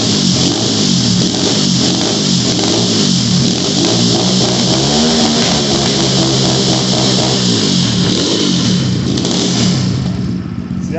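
A 250cc Xmotos dirt bike engine idles and warms up, running loud and close with a steady mechanical rattle and a few slight revs that waver in pitch for about eleven seconds, with no voices.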